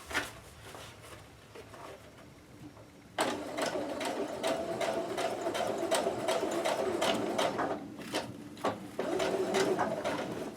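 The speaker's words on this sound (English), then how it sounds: "Be careful to keep the vinyl out from underneath as you sew up this edge." A sewing machine stitches a zipper onto a vinyl cosplay gauntlet. A faint start gives way to a loud, fast rhythmic clatter of the needle that runs for several seconds, with brief pauses near the end.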